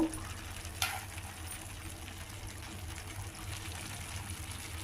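Curry with turmeric cooks on a low flame, a faint, steady bubbling sizzle with a soft clink near the start, quiet and continuous with no talk.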